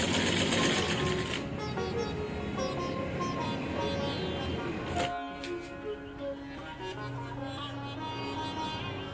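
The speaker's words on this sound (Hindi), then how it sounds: "जब तक तकियों के कवर सिलाई करती है" A sewing machine stitches pillow covers at home in a rapid, steady mechanical chatter that runs almost without pause, then briefly stops with a thump before starting again at a lower, quieter rate.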